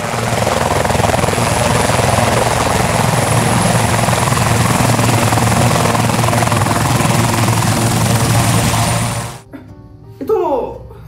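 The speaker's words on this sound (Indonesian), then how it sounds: "Itu helikopter siapa tuh?" Helicopter flying overhead, a loud, steady rotor-and-engine roar that holds for about nine seconds and then cuts off abruptly, followed by a short voice.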